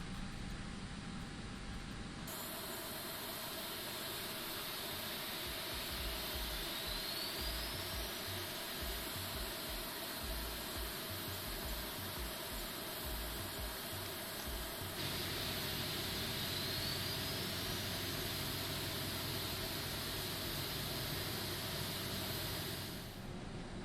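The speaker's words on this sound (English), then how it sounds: "Okay, so we have 2 good engine starts." Simulated Aerosoft Airbus A330 jet engines start up in Prepar3D v5.3: a loud, steady turbine roar and whine with a rising tone sweep, and a second surge of sound joins about two-thirds of the way through.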